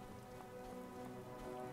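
Steady rain falls in the Skyrim video game, a soft even patter of drops on surfaces that stays faint and continuous with no voices over it.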